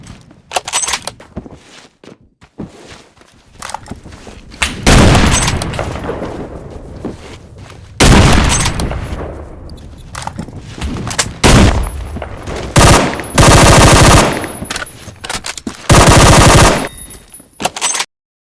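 Rapid gunfire from an AMW sniper loadout in a first-person shooter video game, loud bursts and single cracks repeating irregularly with short pauses between.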